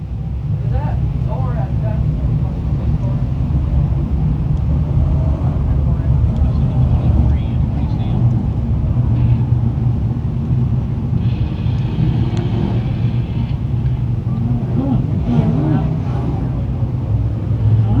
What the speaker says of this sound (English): Heat race number 3 for the Whitesboro Plow Shop Dirt Car 358 Modifieds, rolling trackside right now.